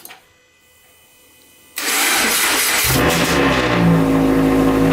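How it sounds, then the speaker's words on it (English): A Scion FR-S, hooked up to a jump pack, starts after a quiet pause. The engine catches abruptly into a loud, close, roaring idle that holds steady for the rest of the clip. "We're gonna go ahead and give it a shot. You can go ahead and crank it if you want."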